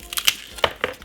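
A garlic clove snapped off the bulb by hand in a home kitchen: a few quick, faint dry cracks and crisp snaps in close succession, each very short.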